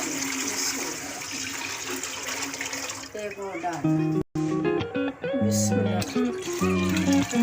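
Water pours and splashes into a cooking pot to boil rice for sweet motanjan rice. It runs steadily for about three seconds, then background music takes over.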